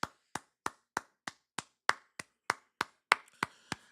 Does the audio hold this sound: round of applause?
yes